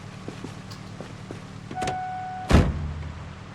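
Car doors being worked while loading a car in the Project Zomboid video game: a few light clicks and taps, a brief whirring mechanism, then one loud door slam followed by a short low rumble.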